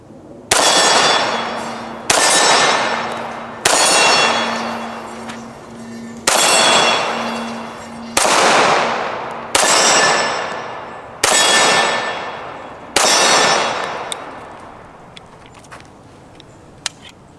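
A TISAS Raider 1911 pistol fired at steel targets: eight evenly spaced loud shots, each followed by a long ringing clang of metal that slowly decays, then quiet with faint handling noises.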